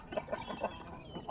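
Chickens kept as backyard poultry clucking in the morning, several soft rhythmic clucks close by with a faint high whine running in the background.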